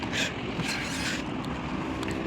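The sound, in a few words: tractor engine reversing with overloaded trolley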